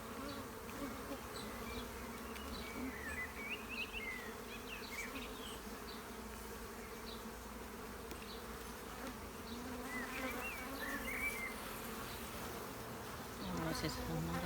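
Honeybees buzzing during a hive inspection, a continuous low drone from many bees close by, with a few louder passes by individual bees rising and fading over the steady hum.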